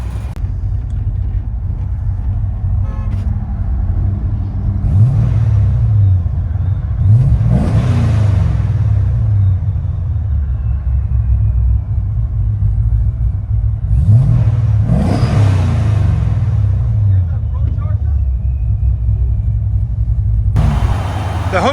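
A cammed, Procharged 2006 Chevy Corvette with a 6.0L V8 and valved exhaust rumbles at a lopey idle, revved hard twice with rising, roaring bursts that settle back, heard close and loud.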